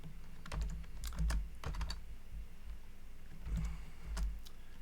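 Fingers type on a computer keyboard in short bursts of quiet clicking keystrokes, with pauses between clusters and no speech.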